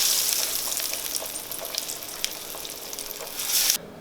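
Pickles coated in pork rinds frying in hot oil, a dense continuous hiss and crackle heard close up, swelling slightly near the end before cutting off abruptly.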